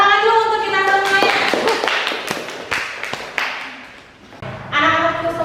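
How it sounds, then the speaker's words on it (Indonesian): Classroom applause from students at the close of a lesson, a burst of scattered hand claps and taps between stretches of a teacher's voice, fairly close and moderately loud. "tepuk tangan dulu untuk kita semuanya"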